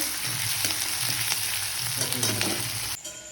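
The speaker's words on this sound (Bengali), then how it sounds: "কড়াইতে পেঁয়াজ দেওয়া হচ্ছে, পেঁয়াজগুলো লাল করে ভেজে নেওয়া হবে।" Steady, dense sizzling of onions frying in a wok, with occasional stirring scrapes, continuous and close, ending in a brief drop in level.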